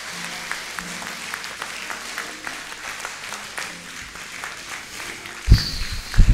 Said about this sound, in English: Somebody give God a clap offering of praise